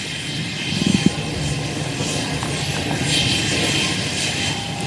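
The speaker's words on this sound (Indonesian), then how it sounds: "Tak hanya pesawat USAF C-130 Hercules, tapi juga pesawat pembom P-1 Lancer terlihat terbang dari pangkalan udara militer" Military aircraft such as a C-130 Hercules and a Lancer bomber flying from a British military air base, heard as a steady broad engine roar at moderate distance with no talk.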